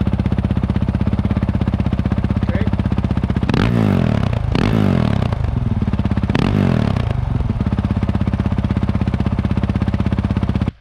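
A Honda CRF450L fitted with a Yoshimura RS-4 exhaust and spark arrestor idles with a loud, even, rapid thump, rising into three sharp throttle blips before returning to the steady idle.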